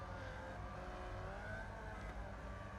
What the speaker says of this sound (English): doing some celebratory burnouts